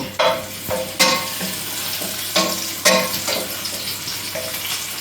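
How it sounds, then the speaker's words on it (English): Garlic sizzles in a pan on the stove, a steady close frying hiss broken by several sharp scraping stirs, with no voices. "I'll just cut them up while my garlic is starting to cook up"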